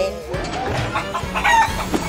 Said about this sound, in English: You scared the chicken.